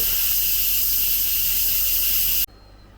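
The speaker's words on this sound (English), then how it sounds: "we'll push it across and we will vent all the excess steam out" Cosori pressure cooker releasing excess steam through its vent, a loud, steady, close hiss that cuts off abruptly near the end, leaving quiet room tone.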